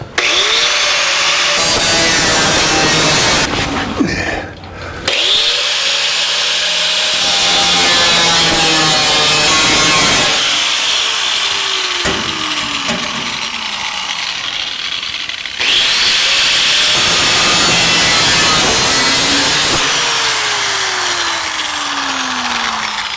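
Steel trunk floor panel on a 1949 Chevrolet gasser being cut with a power tool in a workshop, a loud continuous grinding, sawing rasp with short breaks and shifts in pitch as the blade works through the metal.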